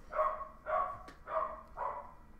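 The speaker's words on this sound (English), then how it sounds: "Be quiet, Oliver. Stop barking." A dog named Oliver barks four times in an even rhythm, moderately loud and close, with no voices over the barks.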